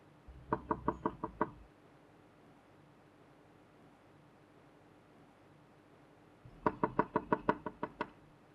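Someone knocks on a door in a domestic drama scene, two quick bursts of about seven sharp raps each, separated by several seconds of quiet room tone, close and clear with no talk.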